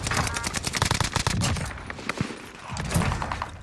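Rapid gunfire from Call of Duty Warzone, with dense bursts of shots early on, a short lull, and then more firing. A voice talks faintly beneath the shots.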